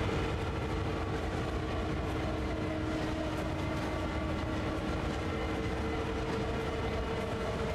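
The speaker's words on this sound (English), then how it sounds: "The train will slow down on its own" A freight train coasting uphill on the Sand Patch Grade in the Train Sim World 2 game, a steady low rumble of wheels and cars rolling on the rails, faint and continuous, with no talk.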